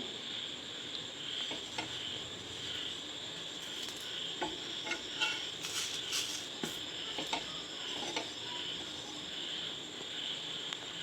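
Wheat and rice adai batter spread on a hot pan hisses in a steady, fine, insect-like sizzle, punctuated by small crackles and scraping ticks as it spreads, with no talking over it.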